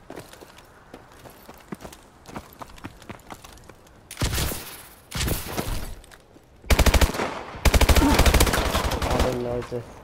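Rapid automatic gunfire from a machine gun in the shooter game Advanced Warfare, loud close bursts in several sustained volleys after quieter footsteps and clicks.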